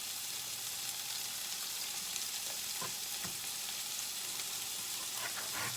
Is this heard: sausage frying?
yes